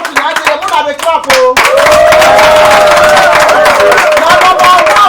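A crowd at a Rotary Club gathering in Abuja claps and cheers loudly, the applause swelling into a dense sustained roar with a held vocal or musical tone running through it after a brief spoken opening.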